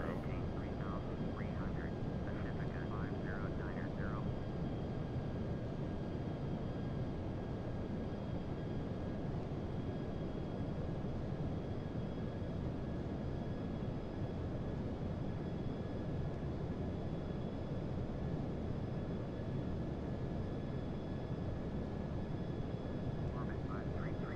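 Cabin noise inside a Boeing 737-823 airliner climbing out of Barcelona: a loud, steady, broadband engine roar and airflow rush with a faint tonal whine, continuous throughout, with people talking faintly under it.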